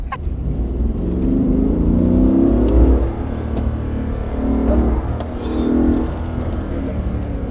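A Mercedes G Wagon petrol engine revs up close, in several rising and falling surges over a continuous low engine drone.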